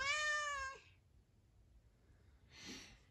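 A cat gives one drawn-out meow, followed after a quiet pause by a softer, breathy second call.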